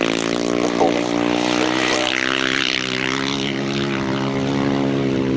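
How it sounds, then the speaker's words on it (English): A Cotton GR500 grasstrack racing motorcycle at a 1992 grasstrack meeting, its engine a loud, sustained droning roar held steady throughout as the bike is ridden sideways through a turn, with no speech. "Cotton GR500 engine again."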